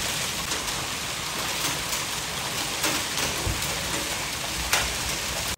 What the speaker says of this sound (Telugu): వడగండ్ల వాన స్టార్ట్ అయింది